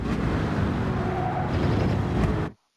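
A race car in a racing game brakes hard and drops down the gears, its loud engine roaring close with tire noise before the sound cuts off abruptly.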